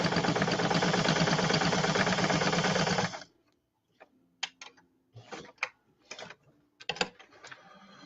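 A sewing machine stitches a curve on a denim coaster, running in one steady loud burst for about three seconds, then stopping, followed by quieter short clicks and handling sounds.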